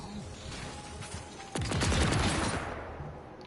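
Gunfire in the PS4 video game Marvel's Avengers: a sudden loud burst of rapid shots erupts midway over a low game ambience, then fades gradually.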